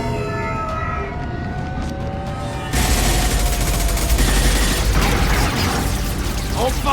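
Heavy gunfire in Mass Effect 2 erupts suddenly after a quieter stretch, a loud sustained burst of rapid automatic shots and impacts lasting several seconds, with faint talk beneath the din.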